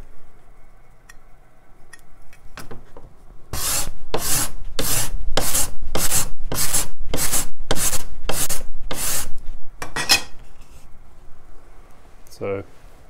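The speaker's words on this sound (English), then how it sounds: "I might just scrape it quickly." A hand scraper works across Royal Blackwood luthiery material in about ten steady, rhythmic rasping strokes, loud and close, after quieter handling sounds and before a few final light scrapes.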